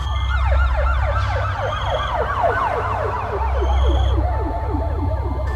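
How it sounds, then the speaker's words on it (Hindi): Police and ambulance sirens wail together in a continuous, loud, overlapping rise-and-fall as emergency vehicles arrive, the sweeping tones repeating rapidly for several seconds with no speech. "वहां पर पुलिस और एम्बुलेंस भी आ गई।"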